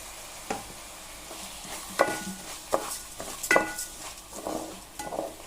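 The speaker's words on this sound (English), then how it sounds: "I'm going to stir it for 2 minutes. Let it get fried in the ghee." Rice fried in ghee is stirred in a pan, with a soft sizzle under scraping spoon strokes and several sharp metallic clinks against the pot.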